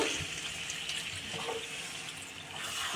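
Water pours steadily into a pot of spiced potatoes fried with masala for Bengali alur dom, a continuous rushing splash lasting throughout at close range, with no voices.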